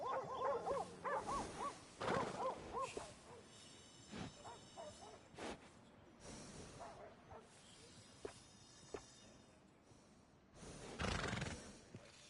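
A horse in Red Dead Redemption 2 whinnies in a quavering burst near the start, followed by snorts, soft hoof and tack noises and scattered rustles, faint and close, with no talk.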